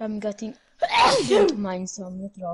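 A sneeze bursts out between spoken words in the middle of a casual Minecraft co-op conversation about mining iron. It is a single loud, breathy burst, with talk just before and after it.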